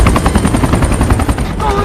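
Loud, rapid thudding of helicopter rotor blades close by, a fast pulsing chop with engine whine underneath.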